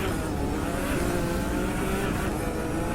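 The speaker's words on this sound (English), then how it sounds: "And the BMW i8 takes off, you guys, with a single blast and go faster to be in a head start in first place" A BMW i8 in the racing game The Crew 2 surges off the start line with a loud, continuous engine roar that climbs in pitch as it accelerates, filling the whole moment.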